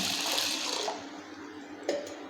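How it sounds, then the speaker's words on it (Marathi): Water pours steadily into a pot of sago pearls for about a second, then trails off, followed by a faint knock near the end. "यानंतर त्याच्यामध्ये पाणी ओतायचं आहे"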